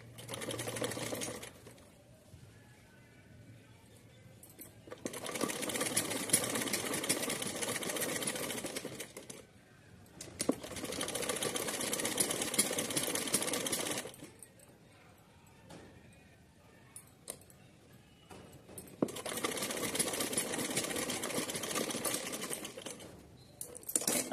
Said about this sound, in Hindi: तो चलिए यहाँ इसको सिल लेते हैं।